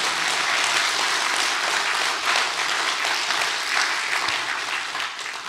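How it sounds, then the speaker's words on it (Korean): A church-style lecture audience in Korea gives a sustained round of thankful applause, a dense, loud roar of many hands clapping that holds steady and eases slightly near the end. "우리 이렇게 큰 신앙과 기도를 지켜주신 하나님께 감사의 박수 올려주시면"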